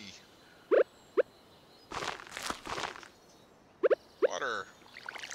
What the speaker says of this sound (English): let's go ahead and dig plots for you